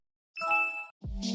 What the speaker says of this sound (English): the extension plays a notification sound like this